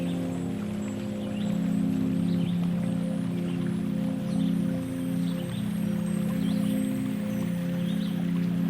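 Soothing flowing water like a stream or small waterfall rushes steadily under a low sustained musical drone, calm and continuous throughout.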